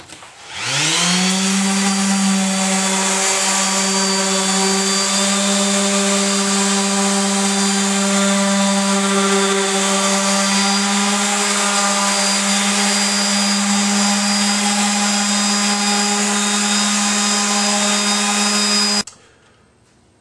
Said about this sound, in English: Very last pass is going to be with 220 grit